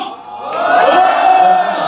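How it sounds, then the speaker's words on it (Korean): A crowd of university students at a freshman membership-training retreat lets out a brief, loud collective shout and cheer that swells and holds for about a second before tapering off. "오른손을 들면 함성을 질러서 아시겠죠?"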